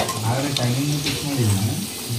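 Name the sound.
potatoes frying in pan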